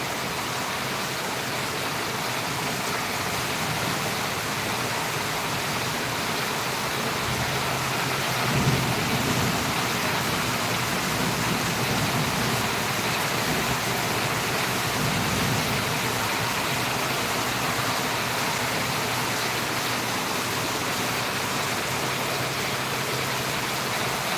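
Heavy rain pours in a dense, constant roar, with a low rumble of thunder rolling through the middle.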